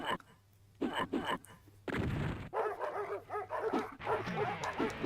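Repeated dog barks and yips from a Sega Saturn video game, loud and choppy, mixed with game effects and people talking over them.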